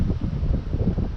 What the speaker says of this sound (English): Do you guys see how windy it is?